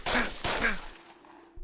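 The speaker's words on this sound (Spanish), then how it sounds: "cuando se escucharon los disparos" Two sharp gunshots in quick succession, loud and close, each with a short echoing tail that fades into quiet.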